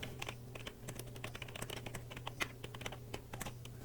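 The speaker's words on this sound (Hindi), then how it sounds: "यहाँ पर हम टाइप करेंगे मैनी हैप्पी बर्थडे" Rapid typing on a computer keyboard while composing an email body, with dense irregular key clicks running steadily throughout, fairly close and clear with no talking.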